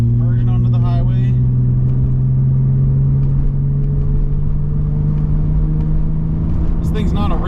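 Lowered BMW E30 accelerating up a highway on-ramp, a steady loud engine drone heard from inside the car, with someone talking over it at the start and end.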